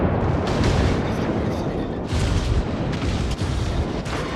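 Naval artillery fire at a Cleveland cruiser in World of Warships, a steady loud roar of heavy guns and booming blasts in a dense game soundscape, with a few stronger bursts.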